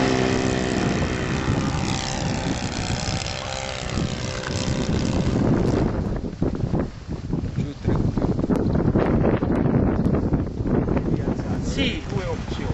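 A light propeller airplane takes off, its engine droning loudly and rising in power under heavy wind buffeting, with people talking over the noise.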